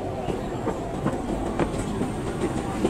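Inside a new passenger train running from KL Sentral to Taiping, Perak, the carriage carries a steady low rumble with rhythmic clicks of the wheels over rail joints, and faint voices murmur in the background.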